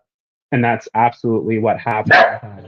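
Dogs bark indoors in short, loud bursts, mixed in and overlapping with a person talking throughout.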